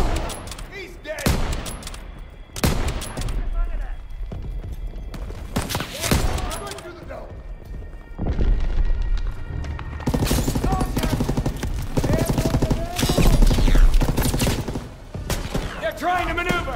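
Call of Duty WWII battle on D-Day, with scattered loud gunshots and bursts of rifle and machine-gun fire near and mid-distance, mixed with explosions and chaotic battlefield noise while soldiers shout over it.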